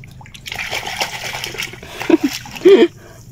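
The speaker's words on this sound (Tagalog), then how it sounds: "Kaya po malakas ang silig, may nagpapalabas daw po ng tubig." A strong current of released river water sloshes and splashes nearby, with a couple of louder splashes toward the end, and faint voices in the background.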